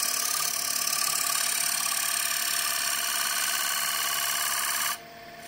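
A steel shear scraper drawn across wood, a continuous dry rasping scrape held at even loudness for about five seconds, then cutting off abruptly into quieter background.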